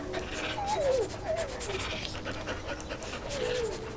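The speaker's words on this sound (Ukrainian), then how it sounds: "Ось собакін. Собакін тримай." Dog panting in the Hello Neighbor 2 video game, quick rhythmic breaths close by with a few short whimpering tones over a steady background.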